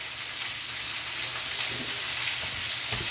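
Sauerkraut hisses steadily in a hot pan, with a soft scrape of stirring near the end; close and continuous, no voices.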